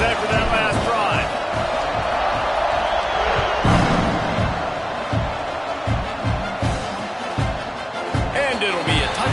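College football stadium crowd in Kentucky's home game roars steadily at kickoff after a touchdown, a dense, loud wash of cheering and shouts with scattered claps and whoops throughout, broken by brief louder surges.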